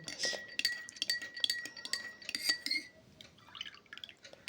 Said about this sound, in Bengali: দুধের মধ্যে অর্ধেক পাতিলেবুর রস নিগড়ে দিয়ে দেব দিয়ে দুধটাকে ভালো করে মিশিয়ে কিছুক্ষণ রেখে দেব